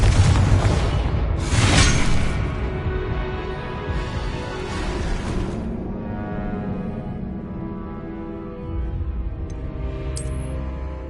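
A Confringo blasting spell exploding in Hogwarts Legacy, with a couple of loud booming blasts and shattering bursts early, then a decaying rumbling tail and a faint late chime.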